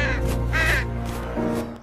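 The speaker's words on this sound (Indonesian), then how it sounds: "Lalu si Ciwai itu terlihat melepaskan gagak pembawa surat itu" A messenger crow caws several times in a short, close burst of harsh, loud calls, heard alone.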